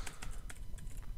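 Quiet, rapid tapping on a computer keyboard while entering an email address, a close run of irregular clicky keystrokes with no talking.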